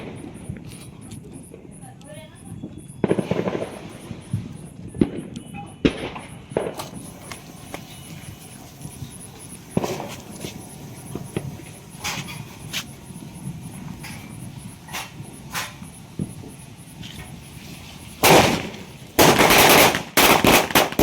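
Triple-shot firecrackers burst during a family Diwali celebration: scattered sharp cracks early on, then a loud cluster of rapid explosive pops near the end over a background of voices and crowd noise.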